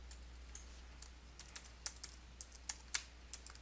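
Computer keyboard keys are tapped in short, irregular bursts at close range while a journal entry is entered in accounting software. The crisp clicks are faint and stand alone, with no talk.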